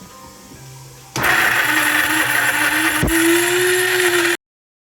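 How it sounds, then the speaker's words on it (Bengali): Almonds ground in a blender, starting abruptly after a second of quiet room noise and holding a loud, steady whirring motor roar that rises slightly in pitch before cutting off sharply. "আমরা এখন একটু কাঠবাদামগুলো বেটে নিচ্ছি। এটা চাপ দিলে হবে।"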